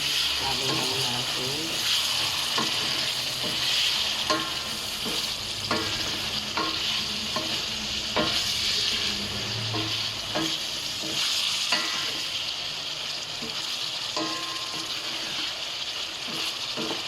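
Onion, black pepper and fish sauce sauté in a pan for Ilocano-style lomo lomo, giving a steady loud sizzle with repeated scraping stirs and a few voice-like sounds underneath.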